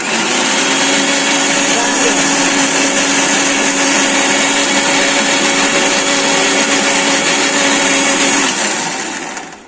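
A mixer grinder blends homemade mango juice with milk, making a loud, steady, high-pitched motor whir close by that runs unbroken for several seconds before cutting off at the end.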